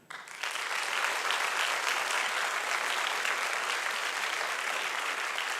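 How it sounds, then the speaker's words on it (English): A graduating class at the Ateneo Law School commencement gives a round of applause for the school, a dense, even wash of many hands clapping that starts quickly and holds steady without any voices over it. "May I therefore ask from you a round of applause for your school."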